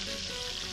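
Fish sizzles in hot oil on a remote island, a brief, steady, close crackle with no talk.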